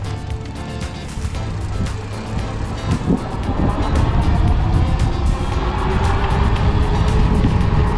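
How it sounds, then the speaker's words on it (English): A Himiway A7 Pro electric bike pulls away hard from a standstill without pedalling at Lake Nockamixon, with a rising motor whir and rushing wind that builds steadily louder over several seconds, with no talking. "A full acceleration test from a dead stop."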